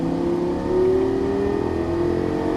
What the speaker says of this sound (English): Accelerate all the way up to the orange cones